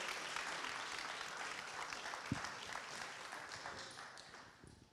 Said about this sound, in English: Can we give Hilary a massive round of applause?